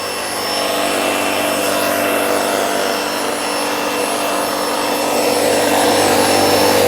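A vacuum steadily sucks the air out of a foam cushion for an RV, giving a loud, continuous broadband whoosh that holds even and unbroken from start to end with no talking.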